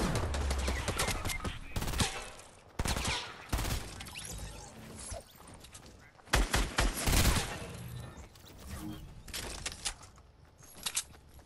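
Fortnite gunfire cracks out in repeated close bursts and rapid volleys with uneven gaps between them, and a voice is faintly heard amid the shooting.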